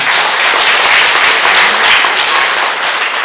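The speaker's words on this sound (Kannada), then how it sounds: "ಅವರಿಗೆ ಒಂದು ಜೋರಾದ ಚಪ್ಪಾಳೆಯನ್ನು" An audience at a teachers' association diary and ID card release event bursts into loud, dense applause that carries on steadily for the whole stretch.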